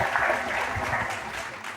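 Studio audience applause welcoming a well-known Indian architect onto a talk show, steady, full clapping throughout the brief moment.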